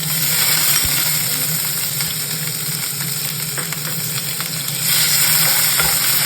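Pepper, curry leaves, garlic and green chili sautéing in hot oil, a steady loud sizzle with scattered spatters and scraping stirs, no voices.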